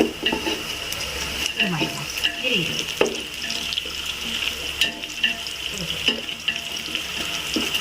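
Onions frying in a pan for prawn biryani, with a steady hiss and sizzle and occasional stirring scrapes close by, a faint background voice now and then.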